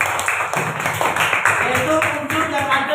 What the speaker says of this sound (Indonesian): Tepuk tangan untuk Mas Yofi